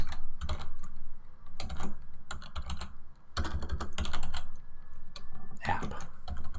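Someone types a service name on a computer keyboard in short bursts of close, crisp keystrokes separated by brief pauses.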